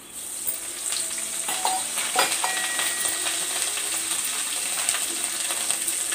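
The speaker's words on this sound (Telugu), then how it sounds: "ఒక్కొక్కటే ఫ్రై చేసుకుంటాను, కాస్త టైం పడుతుంది, పర్వాలేదు" Fish pieces frying one at a time in a small amount of oil in a pan at home, a steady close sizzle with soft crackles and an occasional stir or scrape, no talking.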